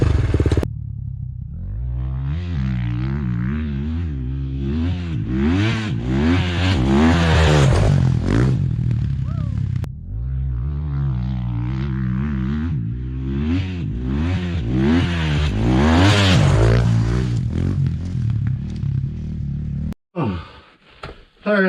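A race motorcycle screams up through the revs on a practice track, rising in pitch across two long pulls held near the limiter, loud and close, with a brief cut between.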